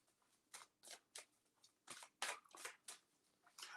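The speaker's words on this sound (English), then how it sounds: "while I'm shuffling Cancer's cards" Tarot cards shuffled by hand in a quiet room, a series of soft crisp riffling bursts repeating at an irregular rhythm, close and fairly quiet with no talk.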